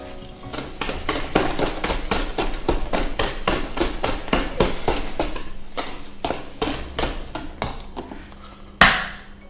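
Eggs and banana bread batter beaten briskly with a whisk against a bowl, giving a steady run of rapid, sharp, evenly spaced clicks that carry on for several seconds and end on one louder knock.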